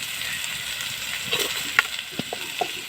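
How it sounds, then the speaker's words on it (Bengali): Carrots frying in oil over a clay stove, a soft steady sizzle with a few sharper pops and crackles toward the end, close and fairly quiet with no talk. "তাই আমি অর্ধেকগুলো একটুকু এর মধ্যে ভেজে নিই"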